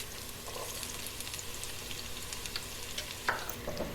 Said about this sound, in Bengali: পেঁয়াজগুলোকে একটু ভাজা ভাজা করতে হবে